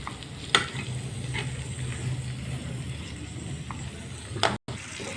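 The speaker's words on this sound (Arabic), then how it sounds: "نديلهم تشويحه بس خفيفه" Chicken or vegetables getting a light sauté in a pan, with a steady low sizzle and occasional stirring scrapes running throughout, fairly close and unaccompanied by talk.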